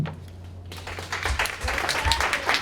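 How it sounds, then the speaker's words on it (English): Audience applause breaks out at a Montgomery County Republican Party meeting, a burst of many hands clapping that starts abruptly and keeps going at steady volume, with some voices mixed in. "I have repeatedly asked that there be no clapping."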